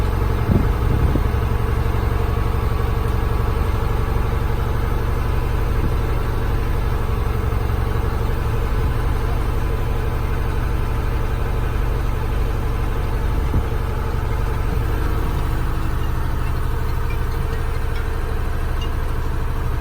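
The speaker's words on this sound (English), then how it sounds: "So you rev it up between 10 and 15, no higher than that." Truck diesel engine held at a steady raised rev during an air brake test, a loud continuous droning rumble that stays even throughout with no talk over it.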